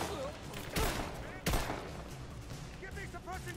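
Enemy gunfire in Rise of the Tomb Raider, two sharp loud shots cutting through a quiet game soundscape, followed by faint tonal effects and a short burst near the end.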